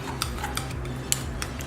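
A utensil stirring seasonings, including pepper, in a bowl for turkey burgers: light clinks and taps of metal against the bowl at an irregular pace, quiet and close, with no talking.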